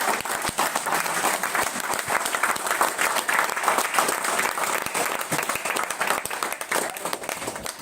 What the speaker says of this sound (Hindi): मैं चाहूंगा कि एक बार जोरदार तालियां और खड़े होकर